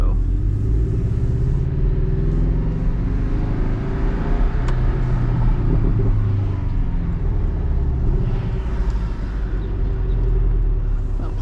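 A Porsche drives along a road, its engine a steady loud rumble with road noise throughout, close and continuous, with no talking.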